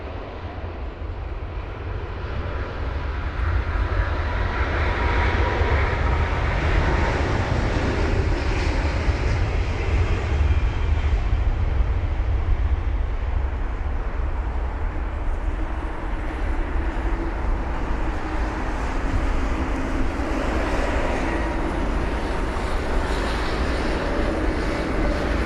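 BA 191, a jet bound for Austin, departs Heathrow on a wet runway; its deep engine roar swells after a quieter start and stays loud and near, slowly shifting in tone as it climbs away, without speech.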